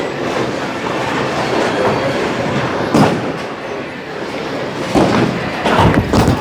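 A bowling ball rolls down the lane in a scratch match, a continuous rumble building, then sharp crashes of pins scattering near the end.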